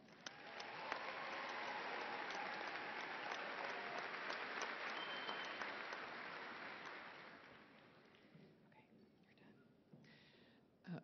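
Commencement audience applauding graduates at Angelo State University, a dense roar of clapping from a large crowd that holds steady for several seconds, then thins and fades, leaving faint murmurs and a final sharp bump.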